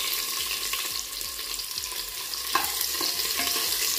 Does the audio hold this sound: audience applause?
no